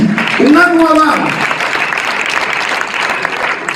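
A church congregation at a live worship recording applauds for Jesus: a steady wash of clapping follows a brief raised voice and continues evenly to the end.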